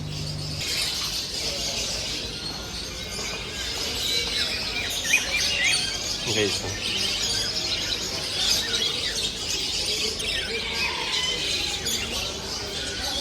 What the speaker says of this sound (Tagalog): Puro mga ibon dito.